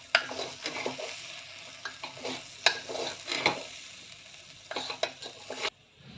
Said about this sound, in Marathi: भाजल्यासारखे करून घ्यायचे ते तांदूळ आणि डाळ।